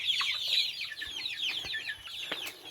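A group of upgraded native chickens clucks and chirps busily nearby, with overlapping calls in a continuous flock chatter.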